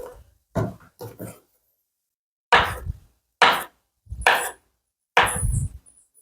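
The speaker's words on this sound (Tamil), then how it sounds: "வாழைப்பழம் வீண் பண்ண வேண்டாம், பாதியாக கட் பண்ணிக்கலாம்." A banana being cut in half on a board with a knife, a series of separate short chopping strokes, close and fairly loud, with pauses between them and no talking.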